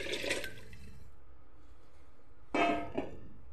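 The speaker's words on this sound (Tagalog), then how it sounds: "Mag-addition natin ng tubig." Water is poured into a cooking pot for prawn noodle soup, a short rushing splash after a quieter earlier pour, close by and with no talk.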